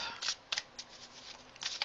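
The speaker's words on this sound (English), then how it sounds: "Let me go ahead and shuffle." A deck of tarot cards riffles and snaps in quick soft bursts, several short papery flurries close by and quiet, with brief pauses between them.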